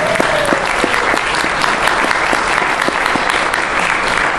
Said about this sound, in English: Right, you give him a clap. Give him a hand.